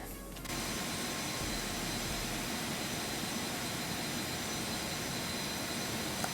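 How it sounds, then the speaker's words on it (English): Twin jet engines of a Phenom 300 idle in the X-Plane 11 flight simulator, a loud, steady roar with a constant high whine that holds unbroken throughout. "Don't think you'd actually have the passenger out with the engines running because it's super loud."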